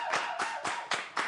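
Applause for a woman named Océane on her birthday, heard as a few separate broad bursts of clapping, fairly faint and with no one speaking.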